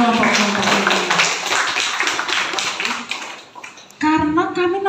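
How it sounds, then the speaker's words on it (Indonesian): Audience applause for groups of cadres at a national political education event, a dense burst of clapping lasting several seconds before it thins out and a voice starts speaking over the room. "Tepuk tangan untuk kelompok-kelompok ini"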